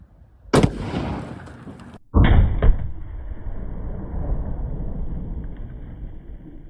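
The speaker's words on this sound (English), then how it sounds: "First shot gonna be the Nosler Partition, right there, 180 grain." A .30-06 rifle fires a 180 grain Nosler Partition bullet outdoors: one loud, sharp blast with a long rumbling tail, then a second heavy crack a moment later that fades into a steady low roar.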